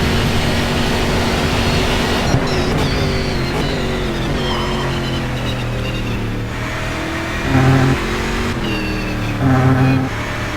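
Racing-game cars from the GSC2012 sim championship at the Curitiba circuit roar continuously at full throttle, with engine tones shifting as a car accelerates and pulls past, rising briefly louder near the end.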